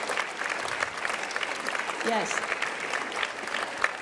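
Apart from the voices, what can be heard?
audience applause for helpers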